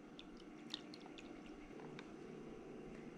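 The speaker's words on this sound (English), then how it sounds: "the little drain is very effective. It really does get all the water out of there" Water trickles and drips as it drains out of a small beauty blender washing machine, a faint, soft liquid squish with a few light splashes, alone and close.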